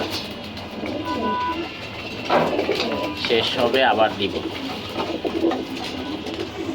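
Pigeons coo at feeding time in a loft of racing pigeons, their repeated throaty calls rising and falling close by while someone speaks over them.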